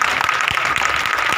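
Congregation clapping steadily at a Hindi-language fire prayer service, a dense continuous wash of many hands at moderate loudness, with no clear speech over it.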